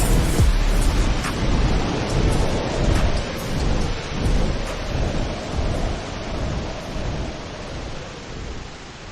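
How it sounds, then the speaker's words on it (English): Heavy thunderstorm with drenching rain: a dense, constant hiss of downpour under repeated deep rolling thunder that swells and fades, with no voices. "I am the bringer of the drenching rains that purifies"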